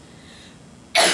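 A sudden, sharp cough bursts out at the very end after a near-quiet stretch, loud and close, during a press briefing.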